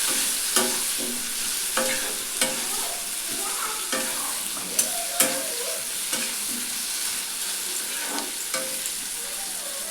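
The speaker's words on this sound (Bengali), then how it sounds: "এরপর এটাকে নাড়াচাড়া করবো এভাবে।" Onions and potatoes with a little salt fry in a pan while a spatula stirs them, sharp scraping clicks recurring every second or so over a constant close sizzle.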